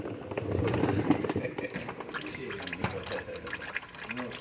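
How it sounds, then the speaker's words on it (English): Engine oil draining from the 17mm drain bolt of a 2017-2020 Hyundai Elantra 2.0L into a pan beneath, a steady close trickling and splashing of liquid with faint background voices. "just make sure you have a pan underneath it and just let that drain out completely."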